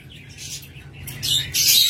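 A pair of albino red-eye pet birds chirping and squawking close by, short high calls that grow louder and busier toward the end.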